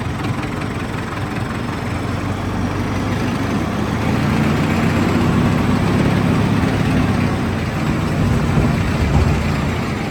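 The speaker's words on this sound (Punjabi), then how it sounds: "ਤੇ ਚਲਾਵਾਂਗੇ ਹੁਣ ਆਪਾਂ ਟਰੈਕਟਰ" A tractor, Swaraj or Farmtrac, working at a dairy farm site filling ground with a trolley: a loud, steady low engine rumble throughout, close and unbroken, with no talk.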